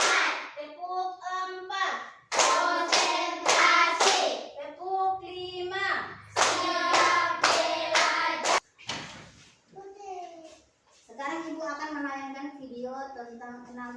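Rhythmic group hand clapping in a classroom focus routine, short bursts of claps in set counts alternating with a teacher's and children's voices calling out between them.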